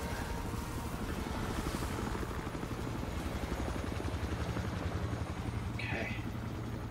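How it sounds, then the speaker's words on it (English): A helicopter in the video game Battlefield: Hardline drones with a steady, rapid rotor thump that holds continuously at moderate distance, with a brief faint higher whoosh near the end. "Sandstorm is picking up. I'm assuming just because of the damn helicopter."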